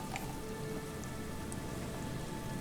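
Rain falling steadily in the video game Disco Elysium, a soft, even patter on surfaces with a few faint drips, heard alone at low volume.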